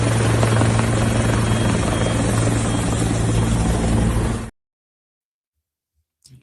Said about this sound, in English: they spotted that this chopper, like hovering out of the airport